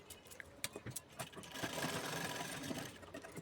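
A sewing machine stitches lining onto a size-31 blouse, starting with a few short clicks and then running in a close, steady mechanical whir.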